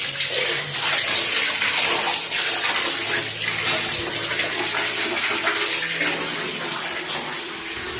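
Clothes are washed by hand in running water, with a steady, full rush of pouring and splashing that lasts the whole time at close range, with no talk.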